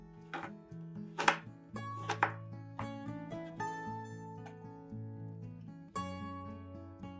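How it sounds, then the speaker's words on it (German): A knife chops 52-percent chocolate into small pieces, giving a run of crisp, irregular cutting knocks, some sharper and louder, over soft tonal background music. "damit die Schokolade einfacher schmilzt, hacke ich sie mit einem Messer in kleine Stücke"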